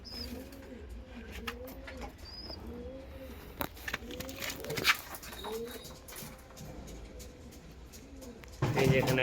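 Pigeons coo repeatedly in a loft where pairs sit with their chicks, the rolling calls rising and falling in a steady rhythm, with faint chirps and a sharp clatter at the close.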